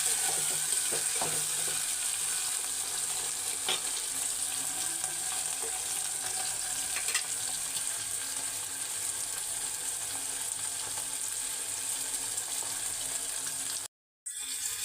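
Okra and tomato sizzle steadily in a hot pan, a continuous broadband frying hiss with occasional crackles and faint clinks, close and alone, with a brief silent gap near the end.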